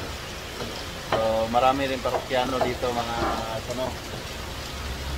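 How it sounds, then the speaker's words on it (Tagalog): Heavy rain pours steadily at a roadside food stop in Cebu, making a dense hiss throughout while a person talks over it. "Yan, malakas yung ulan."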